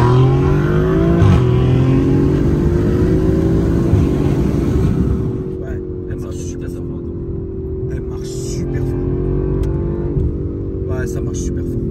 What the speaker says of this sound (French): Et des fois, elle fait des petits retours de flamme.